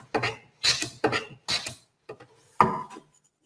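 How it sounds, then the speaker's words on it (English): A hand plane strokes across wood on a shooting board, shaving off thin slivers in about six short, crisp rasping passes with brief pauses between, close and fairly quiet. "you notice that sound is actually individual shavings coming off"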